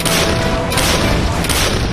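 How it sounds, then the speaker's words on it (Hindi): A 155 mm class howitzer fires: a loud, heavy boom fills the whole stretch, with a sharp burst at the start and further blasts rolling through, no voices over it. "एक ऐसी हावित्जर तोप की फायरिंग दिखाने जा रहे हैं जो दुनिया में सबसे लंबी दूरी तक फायरिंग करती है"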